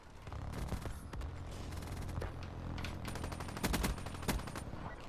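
Rapid automatic gunfire in a multiplayer video game match, with dense overlapping bursts of shots sustained throughout and sharper, louder volleys near the end.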